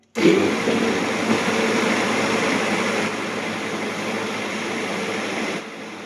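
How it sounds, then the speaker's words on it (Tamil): A kitchen mixer grinder (mixie) grinds idli/dosa batter with a loud, steady whirring drone that runs continuously for about six seconds and drops slightly in level near the end. "ஆனால் ரொம்ப கஷ்டமாக தான் இருக்குது மிக்சியில் அரைக்கிறது"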